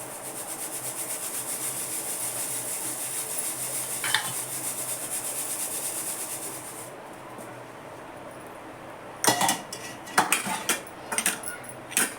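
Roasted salted peanuts being sieved in a pan, giving a steady scraping rattle for several seconds, then a pause and a few sharper clattering bursts near the end.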